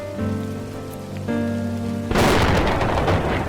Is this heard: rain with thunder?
yes